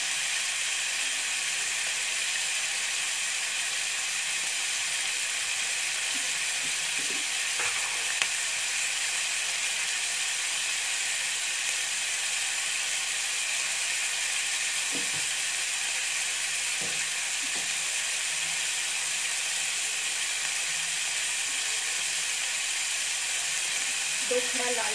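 Paneer frying in a kadai gives a continuous bright sizzle that holds steady throughout, with occasional small clinks and a voice speaking over it.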